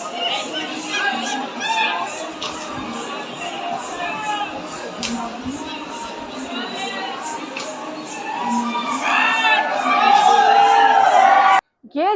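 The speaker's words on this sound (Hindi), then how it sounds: "देख सकते हो माहौल, लाखों की तादाद में भीड़ है दोस्तों" A huge crowd gathers at a garba performance in the courtyard of Asirgarh fort's Jama Masjid, a dense wash of chatter, shouts and whoops that swells louder toward the end.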